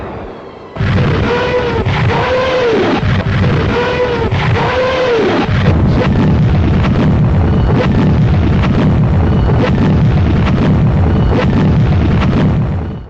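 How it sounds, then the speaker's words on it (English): A continuous roar of heavy Nebelwerfer rocket and mortar explosions and booms, loud and dense, with a rumbling low end and no pauses, like a sustained barrage. "We unleashed barrage after barrage of Nebelweffers and mortar fire"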